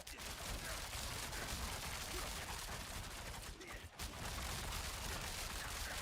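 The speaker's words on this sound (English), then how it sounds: "when I cast Barrage by itself" Rapid, dense volley of game projectile fire from the Rogue's Barrage ability, a continuous crackling burst of shots with a brief dip near the middle, loud and steady throughout.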